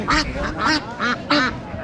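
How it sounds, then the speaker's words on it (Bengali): Laying ducks at a rural market give four close, loud nasal quacks in quick succession, evenly spaced over about two seconds. "ডিম পাড়া হাঁস পেয়েছেন"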